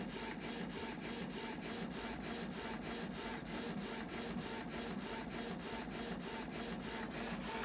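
A Canon wireless printer prints a picture with a fast, even, rhythmic shuffling and scraping as the print head passes back and forth, steady and faint, with no talk.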